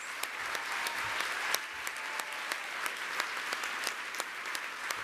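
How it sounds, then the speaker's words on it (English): Sustained applause from an audience at a Living Legends awards ceremony, a steady wash of many hands clapping with a few sharper claps standing out, fairly distant and even throughout. "Let's give them another round of applause"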